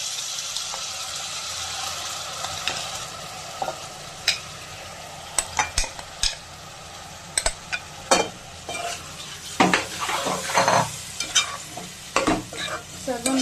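A mushroom masala coated in spices and yogurt is mixed in oil in a pan, with a low frying hiss under sharp, irregular spoon clanks and scrapes that grow busier toward the end, close and with no talking.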